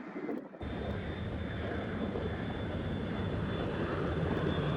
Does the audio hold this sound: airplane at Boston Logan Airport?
yes